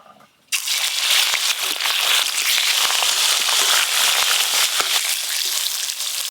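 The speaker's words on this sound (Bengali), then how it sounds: "দই কাতলার জন্য কাতলা মাছগুলো একদম হালকা করে ভেজে নেব।" Pieces of catla fish dropped into hot mustard oil for light frying, a sudden loud burst of dense crackling and sizzling that continues steadily, close by.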